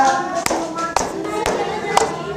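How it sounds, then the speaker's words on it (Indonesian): A classroom claps for a student in four evenly spaced, crisp claps. "tepuk tangan untuk Arleta"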